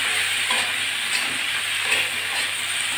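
Bitter gourd and potato frying with garlic, onion, salt and turmeric, a steady hissing sizzle with soft stirring scrapes, close and continuous.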